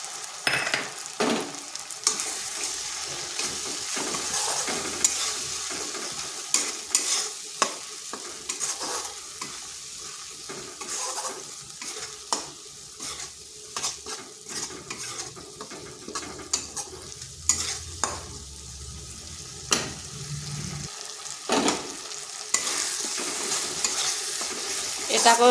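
Poppy seed and cashew paste fries in a pan, a steady soft sizzle throughout with frequent scraping and stirring clinks of a utensil against the pan, close by.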